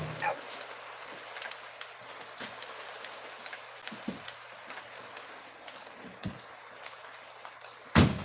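Heavy rain coming down in a steady, dense patter with scattered sharper drops and taps, fairly close and continuous, ending in a louder knock.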